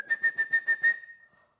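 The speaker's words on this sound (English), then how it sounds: "It's a whistle." Six short, evenly spaced whistled notes at the same pitch, clear and close, the last one trailing off into silence.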